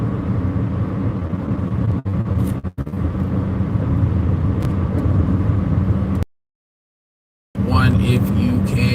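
A car drives along a long road, its steady engine rumble and road noise continuous and loud before a brief cutout, then resuming.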